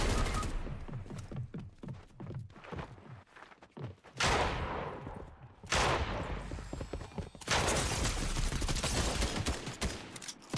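Gunfire in a Fortnite Chapter 2 match, with rapid clustered shots and bursts of automatic fire, loud and close, in several dense volleys separated by brief lulls.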